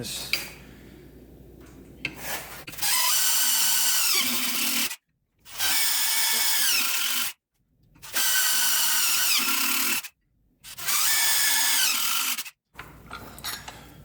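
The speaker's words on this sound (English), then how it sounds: "I'm going to go ahead and drill the holes" A power drill whines loudly in four long bursts separated by short silences, drilling holes to mount LED lights on a Jeep, close by, with faint clanking before the first run.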